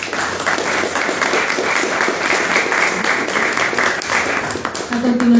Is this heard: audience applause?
yes